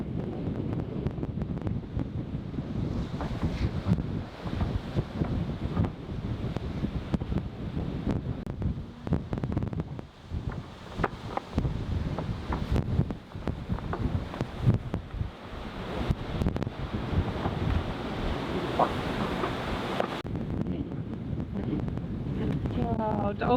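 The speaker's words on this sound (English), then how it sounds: "The waves are coming with us, the wind is coming with us" Waves and steady wind rush around a sailboat on an easy, calm sail with following seas, a continuous broadband wash with gusty surges that stays fairly close and constant throughout.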